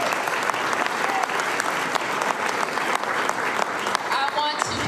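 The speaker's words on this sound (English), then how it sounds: "So let's give them a round of applause." Dense audience applause, many hands clapping steadily and loudly with a few sharper individual claps standing out, fading slightly at the very end.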